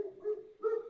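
A female dog gives two short, muffled barks from a distance, faint and separated by a brief pause.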